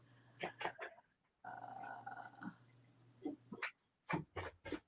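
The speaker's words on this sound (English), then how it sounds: "trying to get my elderly pup up to eat" An elderly dog whimpers and yips in short, fairly close bursts, with a steady low hum underneath, a brief pause, then a cluster of sharper yelps near the end.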